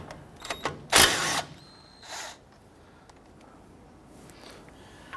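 A tool loosens a 14mm brake caliper bolt on a 2005-2021 Nissan Frontier, heard as a short, loud whirring burst with a weaker follow-up, set among light metallic clicks and handling sounds.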